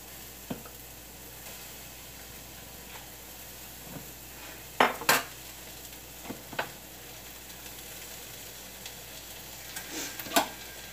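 Minced garlic frying in a pan for vegan spaghetti gives a faint, steady low sizzle, broken by a few sharp utensil clanks and taps against the pan, close by and without talk.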